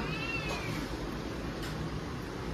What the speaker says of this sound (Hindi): यहाँ पे एक बिल्ली का बच्चा नीचे से ऊपर आ गया है।